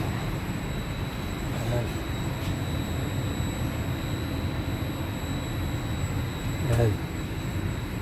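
Engine of a regional train carriage in Italy running as a steady, even drone and hum inside the cabin, with a person speaking briefly over it.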